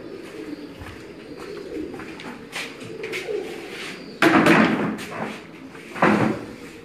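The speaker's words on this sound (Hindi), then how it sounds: "तुहानूं ब्रीडर कबूतर दिखा रहे हैं जी" Breeder pigeons on a rooftop coo softly in a low, continuous murmur, broken by two loud clattering bangs like a door or cage slamming.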